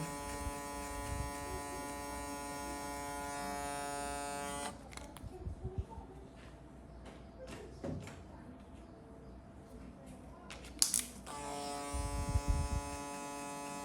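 Barber's electric hair clipper cutting hair with guards being changed down to zero, a steady close buzzing hum that stops for a stretch of quiet handling noises and then starts again.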